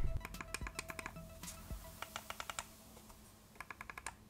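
A Ugreen wireless computer mouse clicks in quick bursts of sharp, close, quiet taps, several short series separated by brief pauses.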